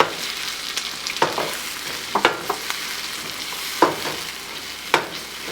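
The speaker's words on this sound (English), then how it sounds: "Now we are going to add tomatoes." Tomato puree from three medium tomatoes going into a hot pan for malai onion sabzi, a steady sizzle with several sharp stirring scrapes scattered through it, close and alone with no talk.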